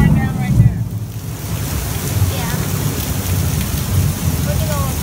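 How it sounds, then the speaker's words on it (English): Hard, heavy rain pouring down during a thunderstorm, a steady broadband roar with low rumbling throughout, loud and continuous with no clear voices. "it's raining really, really hard"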